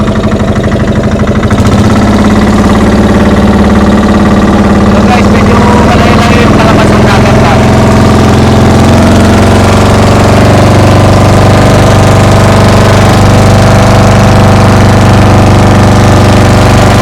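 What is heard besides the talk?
boat engine running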